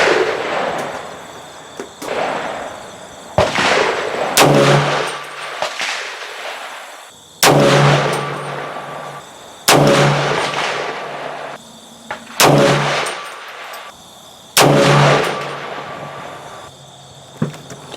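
A 300 Blackout rifle fires 110gr hunting loads of 19.5 grains of Winchester 296 outdoors. Loud, sharp shots come every two to three seconds, each followed by a short echoing tail.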